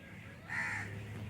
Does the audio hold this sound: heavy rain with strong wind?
no